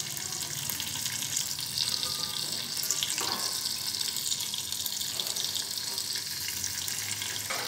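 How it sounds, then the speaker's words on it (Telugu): Water is poured into a plate set as a lid over a pan of brinjals cooking in oil, a continuous soft splashing trickle with a faint sizzle underneath, fairly quiet and steady, no one speaking. "ఇప్పుడు దీని మీద ఒక ప్లేట్ మూత పెట్టి ఆ ప్లేట్లో నీళ్లు పోద్దామండి"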